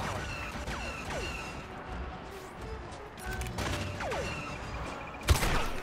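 Ion torpedo fire in Star Wars: Battlefront against walkers: a scattered burst of blasts and crackling impacts over a rumbling battle bed, with one sharp loud hit near the end.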